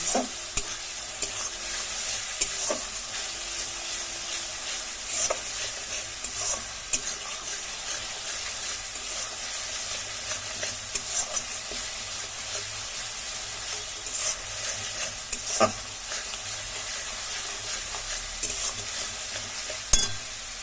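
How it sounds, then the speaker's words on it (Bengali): Spice paste with salt frying in oil for a fish curry, stirred steadily: a continuous close sizzle with scattered scraping clicks of the spoon against the pan, no voices. "পরিমাণ মতো নুন দিয়ে ভালোভাবে মশলাকে কষিয়ে নিতে হবে"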